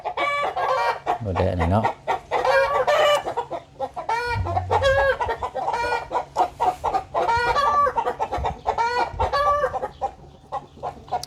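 Chickens cluck and a rooster crows at a rural home, the harmonic calls rising loud and repeated between stretches of close conversation, with people talking over much of the fowl noise.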